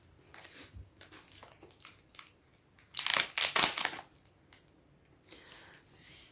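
Packaging being torn and crumpled off a glass milk bottle, scattered crinkles building to a loud burst of crushing and rustling midway, then lighter crackles, close and without talk.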